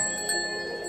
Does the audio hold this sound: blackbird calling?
no